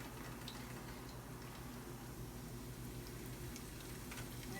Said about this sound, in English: And it's gonna be this really loud, amazing sizzle.